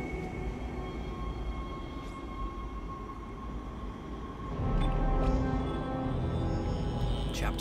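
A tram in the video game Dead Space rumbles along steadily with low mechanical drone and hum, swelling louder about halfway through as it keeps moving.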